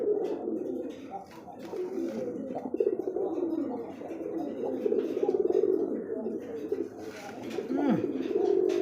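A male Rasgolla pigeon with a red beak and red eyes coos steadily and continuously at close range, a low rolling call that persists throughout, with a voice talking faintly over it.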